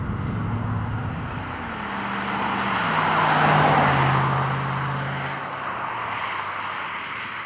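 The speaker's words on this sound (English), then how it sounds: "And I really love that they haven't muted the engine." A Volvo S80 V8 engine accelerating through the gears, its deep, steady drone climbing and swelling mid-run before easing off, heard alone and fairly loud with no talking.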